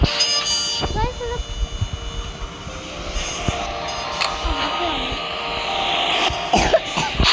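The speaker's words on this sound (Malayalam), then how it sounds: "എനിക്ക് ചുമയാണ്" A few sharp coughs break out at intervals over a steady engine drone, with murmured voices nearby.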